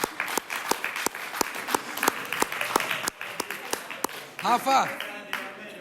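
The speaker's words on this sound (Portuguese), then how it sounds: "uma salva de palmas pro Rafael." A crowd applauds with steady, dense clapping, and a voice calls out briefly near the end.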